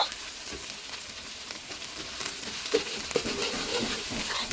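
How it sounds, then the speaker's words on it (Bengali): Bay leaf, cinnamon, cardamom and chopped onion fry in oil for chicken biryani, giving a continuous close hiss and crackle with a few light stirring knocks, steady in level throughout. "মশলাগুলো ভেজে পেঁয়াজ কুচিটি লাল লাল করে ভাজবো"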